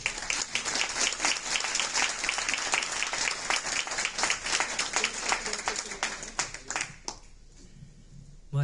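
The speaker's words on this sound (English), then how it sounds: "let's give her a big round of applause for all the great work she does, Linda Hoth." An audience claps warmly at a civic engagement event welcoming a speaker, dense steady applause for about seven seconds, then fading quickly into a quiet room.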